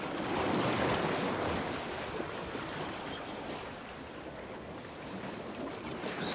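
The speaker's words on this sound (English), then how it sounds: "You can hear the swell." Sea swell breaking on a Bristol Channel beach at high water, a steady broadband wash of surf with wind, slightly louder at the start, continuous throughout with no voices.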